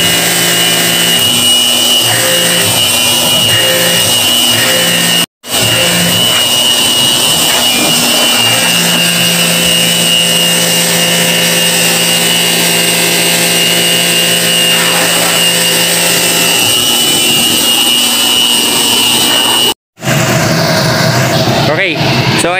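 An LG VRF air-conditioner blower running after cleaning: a loud, steady mechanical drone with a constant hum, overlaid by a person talking, and broken by two brief cuts to silence.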